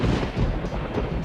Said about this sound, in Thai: เสียงฟ้าผ่าก็ได้นะครับ